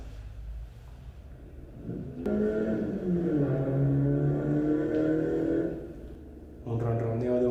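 A car engine revving up, a sustained rising and falling whir of climbing revolutions that swells in the middle of the clip and returns near the end, heard over low background noise.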